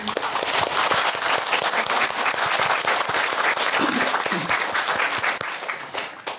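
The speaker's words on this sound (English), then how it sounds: "Oh, another round of applause" Loud, dense audience applause that continues steadily from a lecture crowd and tapers slightly at the very end.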